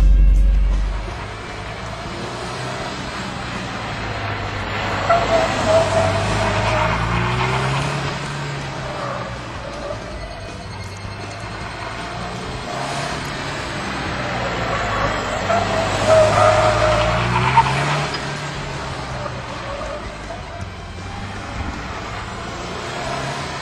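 A car on a circuit, fitted with a Cusco coilover kit, roars and revs hard for a long stretch, the pitch rising and falling through gear changes as it's driven flat out. No talking.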